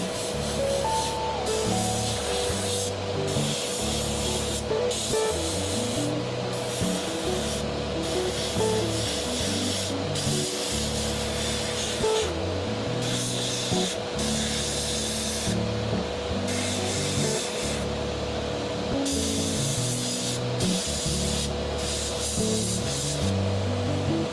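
Spray primer hisses in long, near-continuous bursts with brief pauses as skeleton warrior miniatures for a tabletop fantasy game are coated, over a steady musical background.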